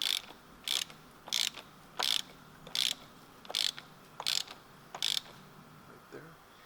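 A part is tightened by hand during an oil change on a 2020 Toyota Tacoma, eight sharp, evenly spaced ratchet clicks sounding close and clear, then a fainter knock at the end.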